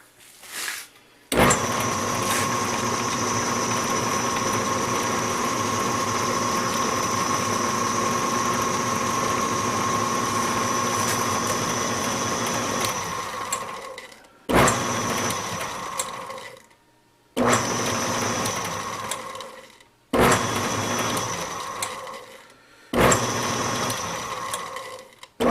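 Metal lathe running slowly in back gear while cutting threads with cutting oil, a whirring mechanical hum with gear chatter that runs steadily for about thirteen seconds, then stops and restarts in four short bursts separated by silence.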